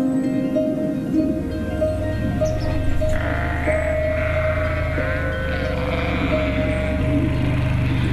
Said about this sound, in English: This time of year, we've got to give the ewes extra feed